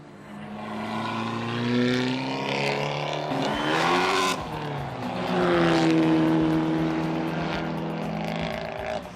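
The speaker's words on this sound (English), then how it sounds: "The cars come out of the boxes." Race car engines rev and whine loudly as cars leave the pit boxes for free practice, pitch rising and falling as they pull away, with a brief sharp burst in the middle.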